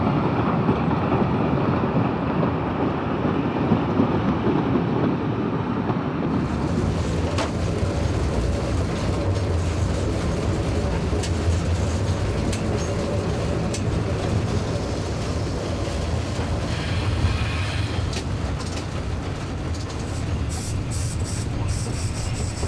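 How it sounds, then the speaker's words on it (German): A model railway train runs downhill on a steep grade along a hillside layout, giving a steady rolling rumble with rail clatter and faint squeals throughout, with no voices. "Mit ziemlicher Neigung fährt der Zug weiter am rechten Hang des beginnenden Nahetals abwärts."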